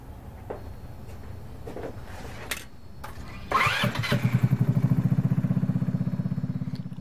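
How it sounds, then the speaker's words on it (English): A go-kart engine cranks, catches and settles into a steady, close, throbbing run. "Now we're ready to start up the unit and we're going to run it forward"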